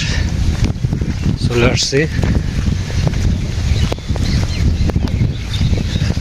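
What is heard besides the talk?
wind blowing outdoors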